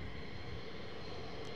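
A steady, broad jet roar from an F-15 Strike Eagle at RAF Lakenheath fills the whole stretch at moderate loudness, with no talk over it.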